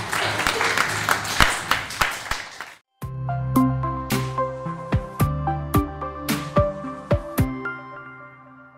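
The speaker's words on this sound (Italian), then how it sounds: "Io direi di fare un bel applauso anche a loro." A short burst of clapping at a primary school class program, brisk and close for about three seconds, then cut off as a tonal musical passage with sharp percussive hits takes over.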